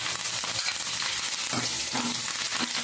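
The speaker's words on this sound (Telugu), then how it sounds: "ఇప్పుడు ఇవన్నీ చక్కగా వేయించుకుందాం అండి" Steady, crackling sizzle of tempering seeds and curry leaves frying in hot oil, close and continuous, with occasional louder spits and pops throughout.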